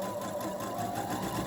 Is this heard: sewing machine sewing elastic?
yes